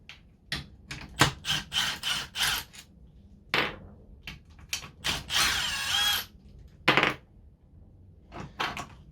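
A power tool zips in repeated short bursts while removing the shifter linkage from a Ford Transit Connect transmission, with a longer whir near the middle and brief pauses between the loud, close runs.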